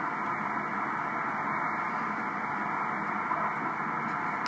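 Radio receiver tuned to the 28 MHz ham band gives a steady, even hiss of static with no signal, faint and unbroken throughout.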